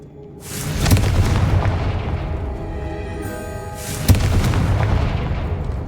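Two heavy fiery blasts from the Confringo spell in the Hogwarts Legacy video game, each a sharp booming burst that rolls into a long rumbling decay, the second striking about three seconds after the first.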